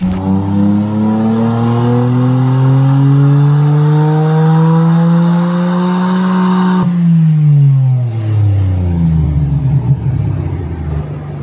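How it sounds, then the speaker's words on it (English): A stock Nissan R34 GTR engine screams up through a loud, steady rev on a dyno run, its pitch climbing smoothly for several seconds before the throttle lifts and the note drops away in a falling deceleration. "we're gonna get back to trying to figure out what this power is gonna be on this stock R34 GTR by Jake."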